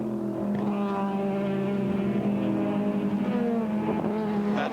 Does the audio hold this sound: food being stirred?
no